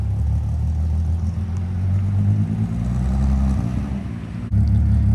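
Rebuilt VR6 engine in a Volkswagen GTI idling with a new exhaust, a loud steady low rumble with a slight dip and a brief blip near the end, heard up close on its own.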